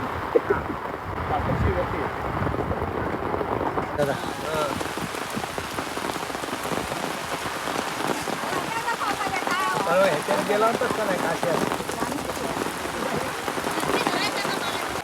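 Rain pours down steadily on a farm, a dense, even hiss of drops hitting surfaces with no letup, while voices sound faintly underneath.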